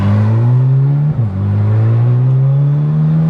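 Chevrolet Corvette C8 Z06 engine on its first drive: a loud, close, droning engine note climbing in pitch, a brief dip like a gear change near the middle, then rising again.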